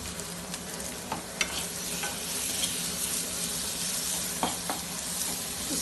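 Boiled potatoes in a salted sabji are stirred in a hot pan, a close, continuous sizzle broken by a few sharp scrapes and clicks of the spoon, with no speech.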